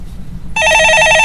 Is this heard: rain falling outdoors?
no